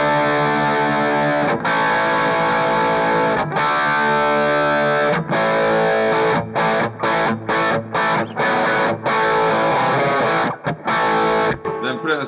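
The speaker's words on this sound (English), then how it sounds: "And let's do some heavy distortion on the bridge" A Gray Guitars Emperor S Type electric guitar on the bridge pickup, played through heavy distortion: loud, dense, sustained chords ring with several short cut-offs and choppy stops toward the end.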